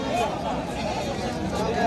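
Goats bleat at the Hazratpur livestock market in Keraniganj, with two faint, brief cries at the start and end beneath a steady hubbub of crowd chatter.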